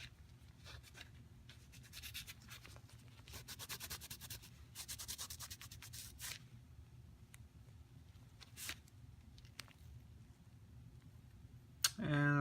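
Lubricant being rubbed off a metal gun surface with a cloth, a quiet, uneven scrubbing and brushing in short bursts over steady low background noise, ending with a sharper knock.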